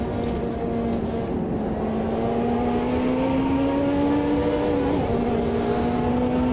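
A Ferrari 330 P4 racing car in the Automobilista 2 sim, engine accelerating in a steady sustained drone with rising pitch and a brief gear change, loud and continuous, no talk over it.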